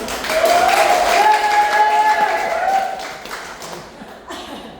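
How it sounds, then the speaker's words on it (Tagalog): A health symposium audience breaks into applause with a voice and some chuckling over it; the clapping stays loud for a few seconds, then thins and fades out. "Yung palakpak na may pride"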